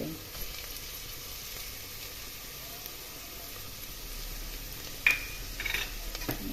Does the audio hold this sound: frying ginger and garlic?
yes